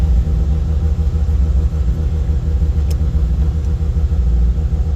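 A Mazda RX-8 with a swapped FD rotary engine idling slightly high on a cold start, a steady loud low rumble with an even burbling pulse, close and alone.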